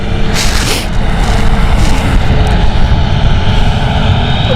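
A Jet2 airliner taxis across the airfield at Stansted Airport, its engines producing a loud, steady roar and whine that fills the whole stretch without pause, close by and unbroken by voices.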